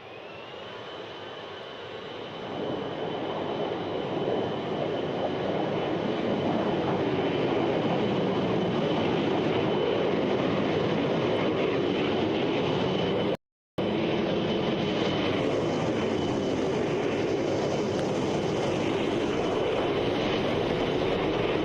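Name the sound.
aircraft taking off from runway in video game ARMA Reforger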